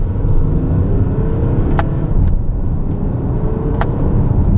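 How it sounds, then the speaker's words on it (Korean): An Audi A7 50TDI quattro diesel engine in Dynamic mode drones loudly from inside the cabin as it is manually downshifted, a steady low rumble with a couple of sharp clicks, no talk. "이 상태에서 다운시프트 내리고"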